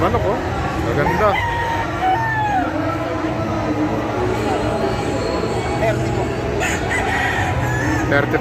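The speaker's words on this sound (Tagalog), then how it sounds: "Ito yung mga manok, oh." Roosters crow repeatedly among many gamefowl at a busy gamefowl expo, with several overlapping calls and clucks both close and farther off over a constant hall din and people talking.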